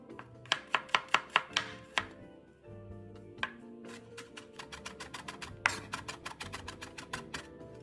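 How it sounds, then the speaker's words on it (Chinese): Red shallots being minced with a knife on a cutting board: a quick run of sharp, evenly spaced chops, a short pause, then a longer stretch of rapid, slightly irregular knife strikes, close and clear. "小红葱30克， 剁碎"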